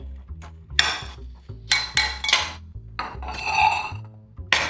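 Salmon and mascarpone mixed with salt and pepper in a bowl, a run of close, sharp clinks and scrapes of a utensil against the bowl in uneven bursts over a low background hum.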